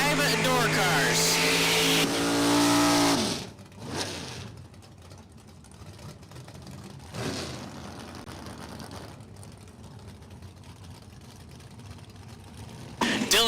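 Door cars launching down the strip at Numidia Dragway during a $10K Friday drag race, loud engine roar for the first few seconds, then a steady engine drone with a brief surge near the end; a voice speaks over it.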